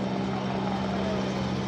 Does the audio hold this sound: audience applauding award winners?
no